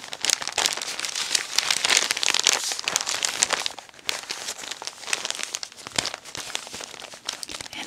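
Retro catalog pages flipped one after another, a dense, steady crinkling and rustling of paper that stays close and fairly loud, with brief pauses and sharper crackles between turns.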